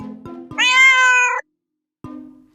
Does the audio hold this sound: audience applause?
no